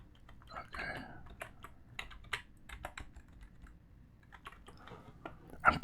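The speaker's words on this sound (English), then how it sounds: "if the keyboard sounds are going to be loud enough" Close, quiet keyboard typing comes in irregular bursts of crisp clicks and taps, alone in a calm room with no one talking.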